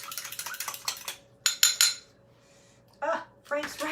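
A spoon stirring melted butter, vinegar and Frank's Red Hot sauce in a bowl, giving close, irregular metallic clinks and scrapes in short bursts with quiet gaps between.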